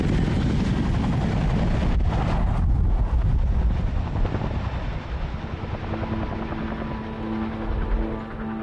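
A Chinook military helicopter departs from a field position in Afghanistan with loud, dense rotor roar and wind buffeting that gradually thins as it pulls away, with no voices.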